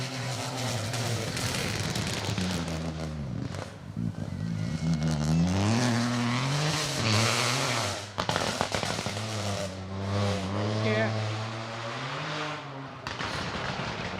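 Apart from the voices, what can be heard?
rally cars driving on asphalt stage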